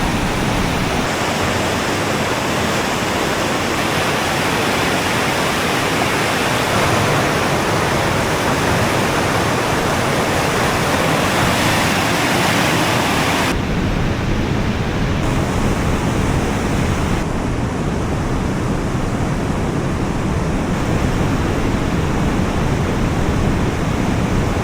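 A rushing waterfall in Swedish Lapland roars as a dense, unbroken wash of water noise, loud and close for the whole stretch, with no voices.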